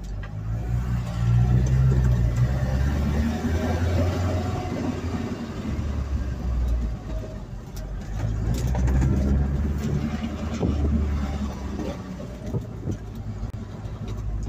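Interior driving noise in a Mk3 Ford Cortina with worn engine mounts, a steady low engine and road drone rising and falling with speed, with faint rattles buried in the rumble and no talking.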